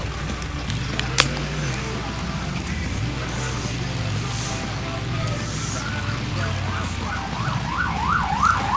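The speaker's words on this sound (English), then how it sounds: "With some excellent police sirens in the background." Police sirens wailing in the background of a noisy engine-revving scene at a Monsters of ROR event in East Rutherford, the rising and falling tones growing more distinct toward the end among steady rumble and crowd noise.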